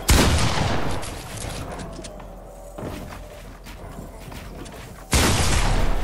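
Gunfire in the Fortnite video game comes in loud, dense bursts, with one burst at the start, a quieter stretch of scattered shots in the middle, and another heavy burst near the end.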